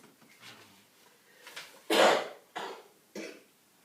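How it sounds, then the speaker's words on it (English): A short fit of coughing, several harsh bursts in a row, close and fairly loud against a quiet room. "The coughing will get edited out."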